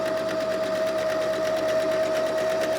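Sewing machine running a continuous backstitch at steady speed, a close, even mechanical whir and rapid needle clatter heard alone.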